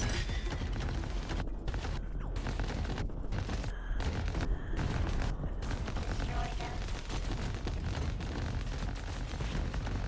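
Enemy cannons fire in the Rogue Command roguelite RTS, a dense, continuous barrage of booms and blasts that stays loud and steady throughout, with no pauses.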